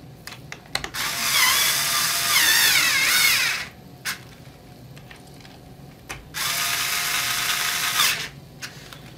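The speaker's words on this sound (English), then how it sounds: "Hand drive the screws just to get things going." A ratcheting hand screwdriver drives screws during battery work on a OneWheel Plus, giving two long bursts of rapid, close, loud clicking separated by a quieter pause with small knocks.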